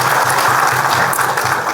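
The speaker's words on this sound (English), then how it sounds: "Another hearty clap for the governor." A conference audience claps for the governor in a dense, continuous burst of applause, loud and close, with no voices over it.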